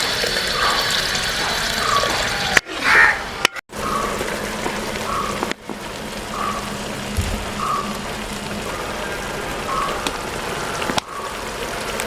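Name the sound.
water poured into chicken kondattam sauce mixture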